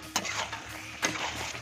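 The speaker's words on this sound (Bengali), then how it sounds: "এইভাবে করে আমি ঢাকা দিয়ে দিয়ে কষাচ্ছি।" Mutton is sautéed and stirred in a pot over a wood fire, with two scraping stirs against the pot over a soft continuous sizzle.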